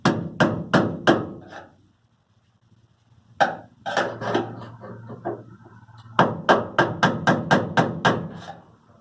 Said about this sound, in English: I grabbed a hammer, so we'll give this a little love tap here